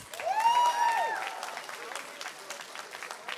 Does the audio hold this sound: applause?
yes